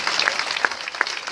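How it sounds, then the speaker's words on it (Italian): Applause from an audience at an Italian civic committee's thank-you rally, a steady crowd clapping texture with a few sharper claps standing out, fairly close and continuous with no talk over it. "Quindi facciamo un grandissimo applauso"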